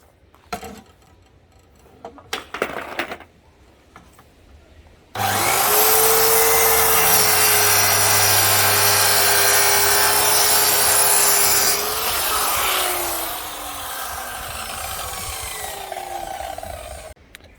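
Wood being sawn along a marked line to cut a drawer base, a loud continuous power-saw whine with a steady grinding rasp that shifts in pitch near the end, preceded by a few brief handling knocks.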